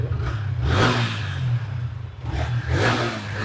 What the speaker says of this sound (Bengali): এটা স্টার্ট দিয়ে দেখাই দেখেন ভাই সাউন্ড টাউন্ড